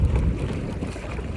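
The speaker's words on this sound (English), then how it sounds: "The wind's starting to pick up now." Wind buffets the microphone in low, rumbling gusts at a pond, steady and close, with no voices present.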